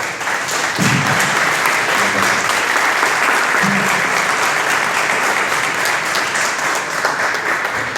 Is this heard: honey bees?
no